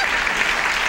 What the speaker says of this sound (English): I never thought a time would come when snake dying would get round of applause.